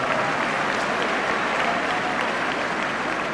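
A high school graduation crowd in Dallas breaks into sustained applause, a thick, continuous patter of clapping with some crowd noise, steady and fairly loud from start to finish.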